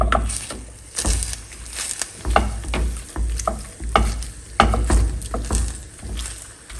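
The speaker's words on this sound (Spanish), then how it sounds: "empezar con el machacador de papas. Necesitamos empezar a deshebrar esta carne." A potato masher shredding cooked beef in a pot, making a steady run of soft, wet thuds and scrapes at an uneven rhythm, close up, with no voices.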